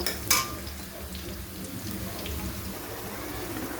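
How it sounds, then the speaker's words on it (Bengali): Ground onion, ginger and garlic spice paste goes into fried onions in a pan. A utensil clinks once near the start, then a low, steady frying sizzle continues. "পেঁয়াজটা তো লাল লাল করে ভাজা হয়ে গেছে এবারে আমি ওর মধ্যে বেটে রাখা মশলাটা দেব"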